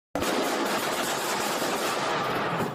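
Police officers open fire in a rapid, dense burst of gunshots that starts abruptly and runs continuously at full loudness, harsh and clipped like recorded playback.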